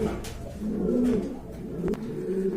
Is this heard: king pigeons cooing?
yes